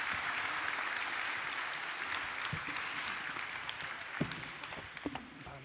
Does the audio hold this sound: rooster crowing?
no